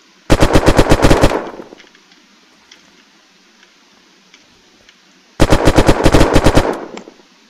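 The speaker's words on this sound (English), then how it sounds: "Now we're going to put 10 rounds on this wall, each on this wall for close up and far away." Two long bursts of rapid automatic gunfire from a weapon in the video game Unturned, each about a second and a half of evenly spaced loud shots, separated by a quiet gap of several seconds with faint background ticks.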